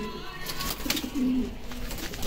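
Soft, low pigeon coos close by, a short run of throaty calls over a noisy background.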